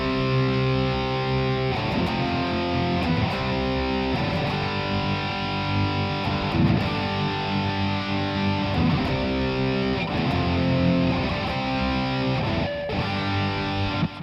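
Heavily distorted electric guitar playing a chorus riff, a dense, sustained, saturated tone with chugging rhythmic accents, loud and continuous without any voices.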